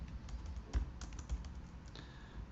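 Soft typing on a computer keyboard while editing a Linux config file, with scattered key taps and a couple of heavier thumps, faint and close, and no talking.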